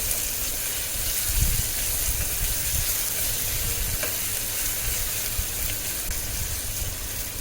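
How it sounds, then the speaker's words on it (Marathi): Finely chopped onion fries in oil with a steady, close sizzle, broken by occasional soft stirring scrapes throughout. "एक मोठ्या आकाराचा कांदा मी बारीक कापून घेतलेला आहे जेवढा बारीक करता येईल तेवढा बारीक करून घ्यायचा आणि तेलामध्ये भाजून घ्यायचं आहे"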